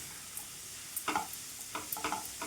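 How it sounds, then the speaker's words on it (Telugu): Grated bottle gourd frying over a medium flame in a pan for halwa, a soft steady sizzle broken by a few light scraping stirs and clinks of the spoon, close and quiet, with no talk. "ఫ్లేమ్ మీడియంలో ఉంచేసుకొని ఈ విధంగా కలుపుకుంటూ ఉండాలండి"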